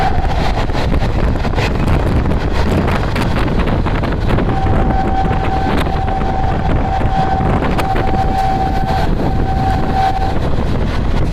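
Goa Express passenger train running on rails, a steady loud broadband rumble with wind buffeting and a sustained tonal whine partway through, continuous throughout.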